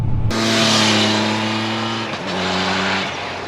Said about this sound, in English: Let's just open her up in 5th gear.